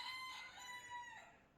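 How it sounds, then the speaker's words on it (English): A rooster crows once in a drawn-out call that falls in pitch, faint and distant in a quiet morning setting. "Gotta love having a rooster."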